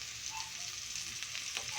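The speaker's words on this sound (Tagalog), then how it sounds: "gigisa na natin itong mga ricado" Onion sautéing in a hot pan after pork is removed, for a Filipino ginisang alamang (shrimp paste) dish; a steady, close oil sizzle with faint stirring scrapes, no voices.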